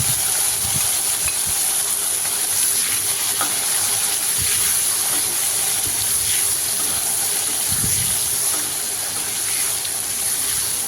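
Marinated prawns hit hot oil with black cumin seeds, giving a steady, close sizzle and hiss that runs the whole time, with occasional soft stirring knocks underneath.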